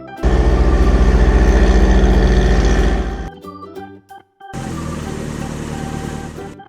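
A cartoon blue truck's engine rumbles loud and steady for about three seconds, then a brief musical pause, then a second sustained engine drone; no speech.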